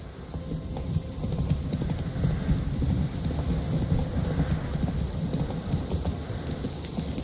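A horse gallops through a rainstorm in The Witcher 3, with fast clip-clop hoofbeats driving steadily under constant rain hiss and low rumbles of thunder, loud and close, with no talk.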